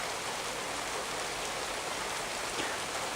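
Light rain from a morning thunderstorm falls in a soft, even hiss of drops on surfaces nearby, constant and moderately quiet with no voices.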